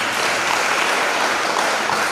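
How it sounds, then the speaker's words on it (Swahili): A church congregation claps in loud, dense applause, a sustained wash of many hands that holds steady for about two seconds. "Makofi kwa Mungu."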